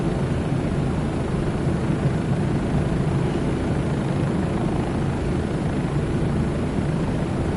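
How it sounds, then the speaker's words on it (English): A Bell 407 helicopter flies in Microsoft Flight Simulator 2024, its engine and rotors giving a steady, loud, unbroken drone with a low rumble, heard alone without talk. "But it's helicopter, and you have to remember this helicopter is not that fast."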